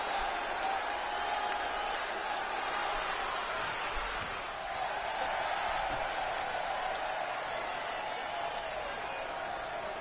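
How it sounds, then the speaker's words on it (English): Arena crowd in the WWE 2K20 wrestling video game roars and cheers steadily throughout, a dense, continuous wash of screaming fans with no breaks. "This Washington crowd screaming war at the top of their lungs for Eric and Ivar."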